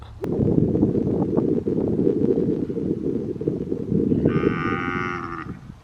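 Cattle on an Australian farm low in a long, loud, deep moo close by, held for several seconds, with a brief higher-pitched sound near the end and no talking.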